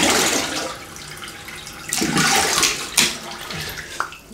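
Water running and splashing at a sink as a face is re-wetted for shaving, a loud, close washing noise with bursts of splashing from cupped hands.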